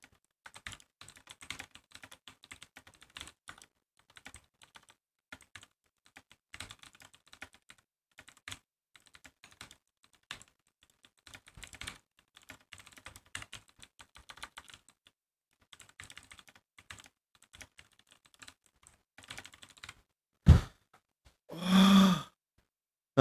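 Fast typing on a computer keyboard during a typing-speed record attempt: rapid bursts of close key clatter with brief pauses, ending in a sharp exhale and a drawn-out groan.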